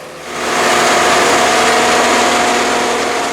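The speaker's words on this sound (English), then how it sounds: "The spike puller has some serious-looking rotary brushes on the front for clearing the track" A railroad spike puller machine with rotary brushes on the front runs along the track during crosstie replacement, its engine a loud, steady, continuous drone that swells up at the start and holds without pause.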